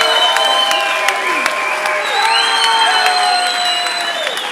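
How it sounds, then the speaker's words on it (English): A boxing crowd applauds and cheers at a fight night as a retiring boxer is honored, a loud continuous wash of clapping mixed with whoops and shouted voices, with whistle-like tones rising over the noise. "just give him a big round of applause"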